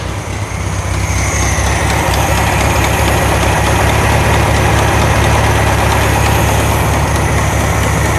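A 1972 VW Karmann Ghia engine, run again after many years, idles steadily right after starting, a loud, close, rough low rumble with a slight knock and no talk over it.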